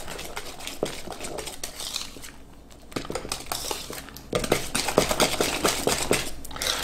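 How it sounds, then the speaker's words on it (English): A spoon clinks and scrapes steadily against a mixing bowl as thick BBQ cornbread batter is stirred, the stirring growing louder and busier toward the end. "give it a good stir and make sure that everything is moistened"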